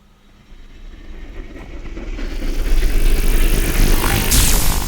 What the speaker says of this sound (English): that's the sound of the electricity like powering up before he fires it off